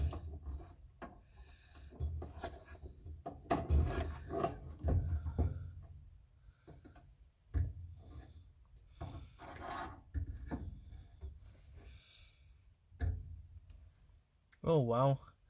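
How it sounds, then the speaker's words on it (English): The fuel pump housing comes out of a supercharged Honda Prelude 2.2L with intermittent scraping, rubbing and metallic clicks, near and moderately loud, while someone talks between the noises. "we're about to take out the fuel pump housing now"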